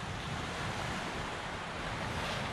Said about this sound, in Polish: Fala może nie jest jakoś super wysoka, ale taka całkiem silna.